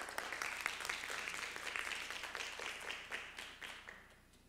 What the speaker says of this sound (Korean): 수고해 주신 교수님께 다시 한번 큰 박수 부탁드립니다